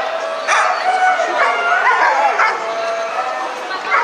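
A Shiba Inu at a European dog show in 2022 gives repeated close, high yipping barks while a person talks over them.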